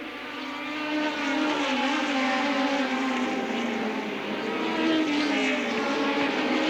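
A Formula One car screams down the straight at the 1982 Australian Grand Prix, its engine note loud and sustained with a slowly sliding pitch. The roar goes on for several seconds without commentary.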